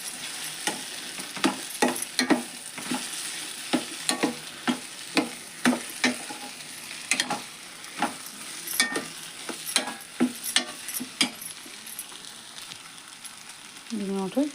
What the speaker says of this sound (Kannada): ಈಗ ಇದು ಒಗ್ಗರಣೆಗೆ ಮಿಕ್ಸ್ ಮಾಡ್ತೀನಿ ರೀ.